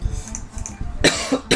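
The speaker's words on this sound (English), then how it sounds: "I probably will cough throughout the video" Coughing from a sick commentator recording game commentary for Jacksmith: two harsh, close bursts near the end, with quieter breathy throat sounds before them.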